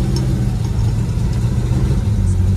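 A 1976 Dodge Dart Swinger with a 340 V8 runs rough and surging, its loud, steady low rumble wavering unevenly throughout with no voices over it.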